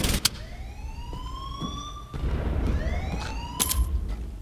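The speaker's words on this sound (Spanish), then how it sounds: "Una sirena." Rising and falling siren wails in the shooter game Wolfenstein: The New Order, two sweeping cycles over a low background hum with a few sharp clanks, loud and near.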